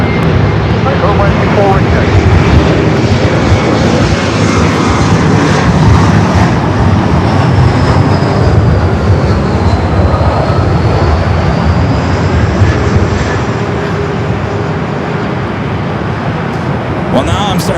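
Airliner engines roaring steadily at LAX as aircraft line up on runway 24 right, a loud broadband rumble filling the whole stretch with a faint rising whine, while someone talks over it.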